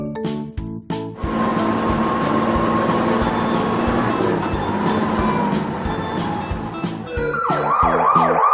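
A red fire engine's siren wails loud and close, a steady tone rising and falling over an electronic backing with toy-like beeps, and no one talks.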